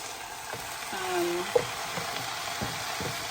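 Wild spring greens, washed and still damp, dropped into a pan of browning onions, giving a steady broadband frying sizzle with a few stir clacks and a brief sharp pop, moderately close and with no talk.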